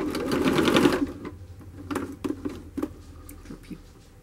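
Sewing machine stitching fabric for a fluffy seat cushion, a loud continuous whirring run for about a second, then quieter intermittent clicks and short bursts as the needle and fabric are repositioned.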